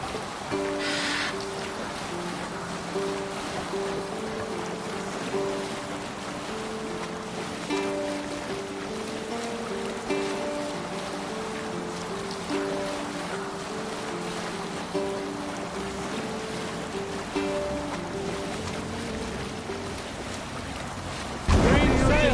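A sailing ship out at sea in Assassin's Creed Valhalla: wind and rushing water over the hull go on for the whole stretch under a soft, sustained musical tone, and a louder burst comes at the end.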